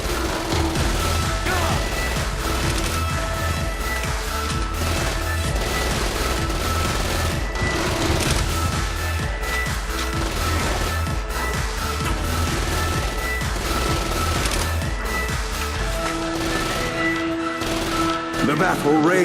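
Battle gunfire rages in Saints Row: Gat Out of Hell, with rapid machine-gun fusillades and scattered shots crackling continuously over a loud, driving music track for the whole stretch.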